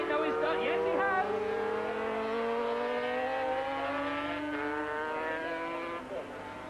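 500cc Grand Prix racing motorcycles scream past at Donington Park, high engine whines rising and falling as bikes accelerate and shift, with a commentator talking over them.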